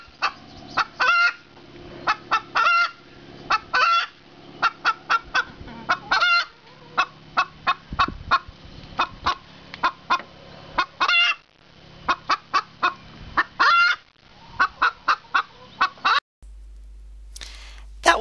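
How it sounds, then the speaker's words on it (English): A Sussex hen clucks close by in a long series of short, sharp clucks and bursts, irregular in rhythm, loud and mostly alone, ending abruptly. "That was our Sussex hen."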